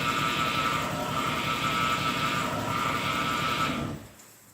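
Lexus LS400 engine running with a failing power steering pump, a steady close hum with a constant high whine layered over it, alone without talk, cutting off near the end.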